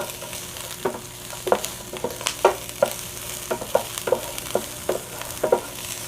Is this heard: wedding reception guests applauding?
no